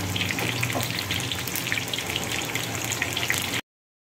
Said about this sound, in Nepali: यहाँ फ्राई हुँदैछ, ल हेर्नु होला चिकन मोमो फ्राई।